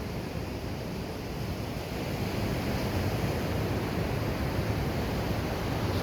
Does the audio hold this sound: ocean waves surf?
yes